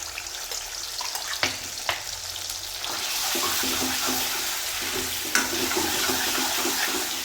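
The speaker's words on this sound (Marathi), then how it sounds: "कढईमध्ये तेल टाकलं आहे. आता आपण जे वाटण केलं आहे हे टाकून घ्यायचं आहे." Ground masala paste is tipped into hot oil in a kadhai. A few soft clatters come first, then a sudden steady sizzle rises and holds to the end, with no speech.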